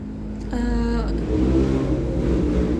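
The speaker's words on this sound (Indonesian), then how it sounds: "mohon maaf ada suara motor" A motorcycle engine revs and passes nearby, a loud rising whine that settles into a steady mid-pitched drone with no talking over it.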